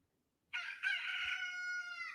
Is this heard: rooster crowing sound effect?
yes